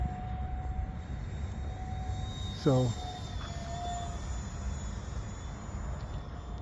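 A J35 brushless EDF RC jet at full throttle, a steady high-pitched ducted-fan whine sustained throughout with a brief chirping burst midway and a short spoken word.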